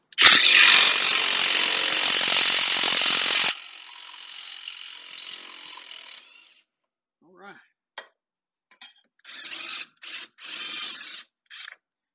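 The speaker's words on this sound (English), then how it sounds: "Took the big shock bolt out." A ratchet wrench works the big shock bolt on a 1986 Ford F150, starting with a loud, close, sustained rapid clicking that fades to a quieter run, then a few short separate ratchet bursts and clicks after a pause.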